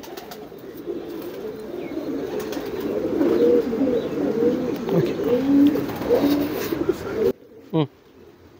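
Homing pigeons in a loft coo steadily in low rolling calls, fairly close and continuous, with a brief word spoken near the end after the cooing stops.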